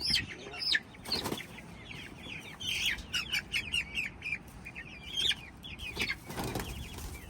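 Chickens being moved on a goat homestead squawk and cluck in repeated bursts, with wing flapping and shuffling handling noises, fairly close and with no talk.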